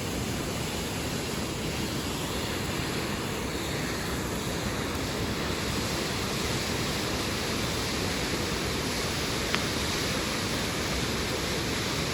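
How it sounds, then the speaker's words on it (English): A waterfall rushes steadily behind a lakeside campsite on a canoe trip in Temagami, a dense, unbroken roar that holds even and fairly loud throughout. "That waterfall back there."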